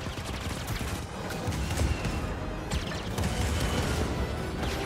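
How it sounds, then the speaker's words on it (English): Dense, continuous barrage of heavy blasts and mechanical clatter from cannon fire in Star Wars Jedi Fallen Order, loud and relentless throughout with no pauses. "Fire cannons and everything to make the Empire angry."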